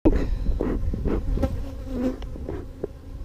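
Honey bees droning densely close to the microphone during a spring hive inspection, a steady low buzz with individual bees swelling louder as they pass, and no voices.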